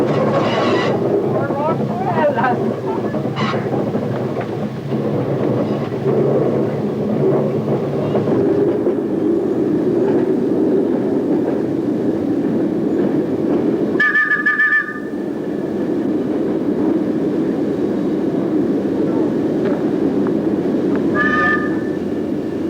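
A battery electric London Underground locomotive hauling a train out of the depot yard rumbles and grinds loudly nearby, a steady low roar with a couple of short horn-like tones partway through.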